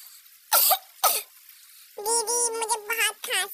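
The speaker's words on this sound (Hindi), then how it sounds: "दीदी मुझे बहुत खांसी हो गई है" A voice coughs twice in sharp, loud bursts, followed by a short stretch of whiny, pitched vocalizing, close to the mic with no other background sound.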